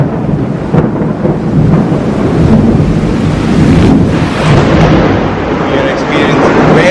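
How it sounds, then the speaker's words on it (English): Very heavy rain pours down steadily during a loud thunderstorm in Jamshedpur on a summer solstice day, with deep rolling thunder rumbling under the dense, continuous downpour and some wind buffeting the microphone. "We are experiencing very heavy rainfall and very loud thunderstorm here in parts of Jamshedpur."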